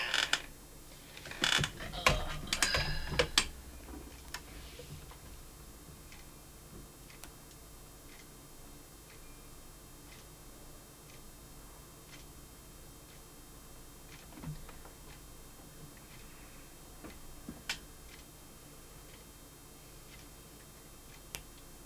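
A sewing machine mechanism runs unevenly, with a burst of loud clattering and knocking at the start, then sparse faint ticks and clicks against a quiet background.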